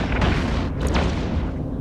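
A deep booming explosion of an Armageddon ship in EVE Echoes, a low rumbling blast that swells and fades over about two seconds, loud with no voices.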